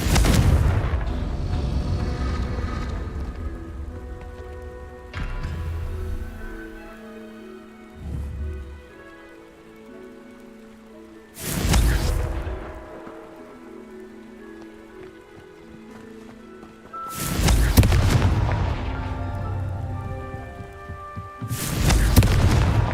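Explosive Confringo spell blasts from Hogwarts Legacy go off in loud bursts, four sharp booming hits spaced several seconds apart, each with a crackling tail, between quieter stretches of ambient game music and no speech.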